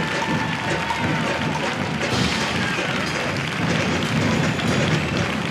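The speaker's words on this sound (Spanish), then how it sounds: "La verdad es que con muchos aplausos" Spectators applaud a comparsa troupe during the grand carnival parade in Badajoz, 2022: steady, dense clapping blended with broad crowd noise that holds at an even level throughout.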